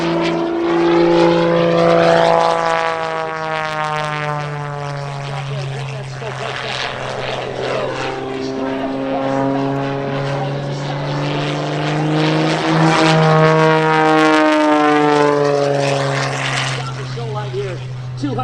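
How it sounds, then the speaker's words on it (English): An aerobatic propeller airplane drones steadily overhead at an airshow, its engine pitch rising and falling as it maneuvers, with a voice talking over the continuous buzz. "Lets that airplane fly away"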